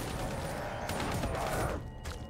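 Gunfire in the Call of Duty: Black Ops 3 campaign mission Demon Within, a dense, continuous rattle of shots that stays loud throughout and drops off near the end.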